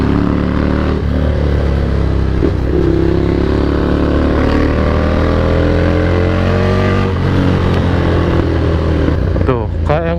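A Ducati Monster 797 motorcycle being ridden on the road, its engine droning loud and close with steady throttle and slight pitch shifts, continuous throughout under wind rush.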